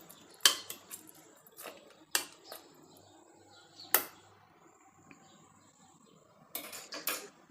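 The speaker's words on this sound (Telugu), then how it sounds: "ఇప్పుడు ఫైనల్గా ఒకసారి బాగా కలిపేసుకుందాము." Goat head curry being mixed with freshly added coriander, heard as sharp spoon clinks and scrapes against a metal cooker pot, a few scattered knocks with quiet pauses between, close and fairly loud.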